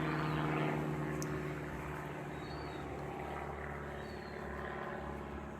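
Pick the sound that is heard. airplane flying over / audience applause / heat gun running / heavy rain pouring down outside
airplane flying over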